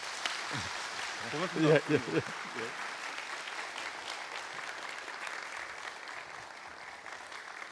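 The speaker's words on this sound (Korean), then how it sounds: "큰 박수로 모시도록 하겠습니다" Audience applause at a Ministry of Oceans and Fisheries special lecture in Korea as a judge is welcomed to the stage, a steady broadband wash of clapping that runs the whole time while someone briefly speaks over it near the start.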